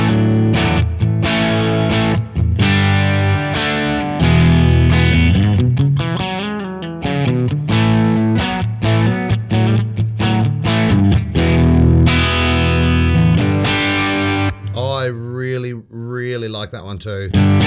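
Heavily distorted electric guitar through a Sonicake Matribox 2 distortion modeled on an MXR Distortion Plus plays chords and sustained bending notes, loud and close, with a crunchy overdriven tone throughout.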